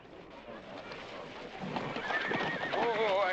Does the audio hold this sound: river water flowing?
no